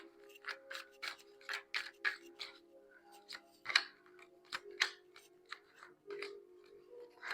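Tarot cards are laid down and shuffled in a rapid series of soft snaps and brushing rustles, close up and quiet, with no talking.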